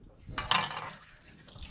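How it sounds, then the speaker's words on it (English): Crab bisque being stirred in a pot, a brief burst of scraping and clinking near the start that fades to quiet kitchen background. "I'm going to stir this up again"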